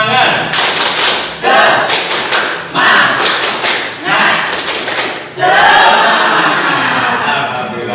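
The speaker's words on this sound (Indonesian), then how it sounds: "kita tepuk semangat gini ya" A class of children performs a rhythmic spirit clap in a classroom, loud bursts of clapping, thumping and chanting in several short phrases separated by brief pauses.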